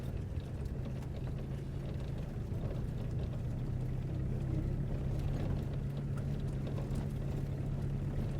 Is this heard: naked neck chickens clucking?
no